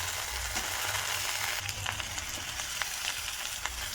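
Straw mushrooms frying with onion in hot oil, a dense, steady crackling sizzle close up with occasional light scrapes, no talking.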